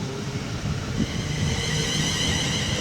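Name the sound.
HST passenger train passing, Penzance to Paddington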